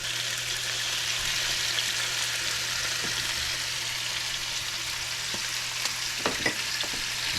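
Chicken sizzling steadily in a hot pan for Italian-style chicken and potatoes, a dense continuous frying hiss with a few sharper pops and crackles near the end, close and without talk.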